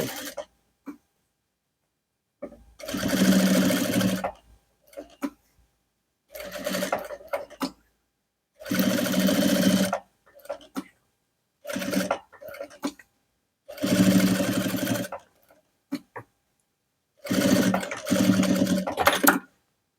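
A sewing machine stitches a fabric cover for a monk's alms bowl strap, running in six loud, close bursts of rapid mechanical chatter separated by short silences.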